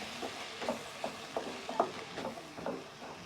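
Lentils (pappu) frying in a pan while being stirred for a drumstick-leaf and toor dal tempering, with a soft steady sizzle and several clear scraping stir strokes of a spoon against the pan.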